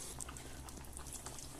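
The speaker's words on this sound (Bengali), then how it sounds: "আলুর দমের ঝোলটা ফুটে গেছে," Aloo dum potato curry gravy boils in a pot, a quiet continuous bubbling with small soft pops, heard close and faint with no voices.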